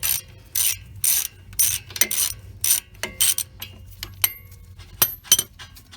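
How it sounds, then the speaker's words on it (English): A ratchet works loose the upper brake caliper bolt on a Lexus RX 350, sounding as close, quick bursts of metallic clicking, about a dozen short runs of ratcheting separated by brief pauses, with occasional light clinks. "keep pressure off the hose here, and take out the upper bolt"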